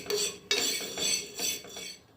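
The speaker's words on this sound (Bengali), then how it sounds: "আর হলুদটা ভাজছি" Turmeric frying in a pan is stirred with a utensil in several scraping strokes, rhythmic sweeps about every half second, close and clear with no speech.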